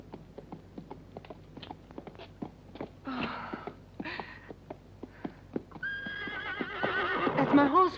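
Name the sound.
horse neighing in western film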